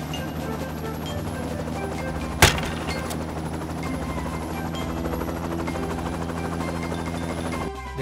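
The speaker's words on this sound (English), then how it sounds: "spotted a helicopter dropping the reward at" A helicopter in a jungle adventure scene gives a continuous steady rotor drone throughout, broken by one sharp loud bang early on.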